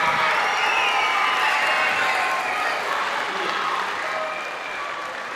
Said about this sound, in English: Can you please clap it out for Cindy Lou Who and the Grinch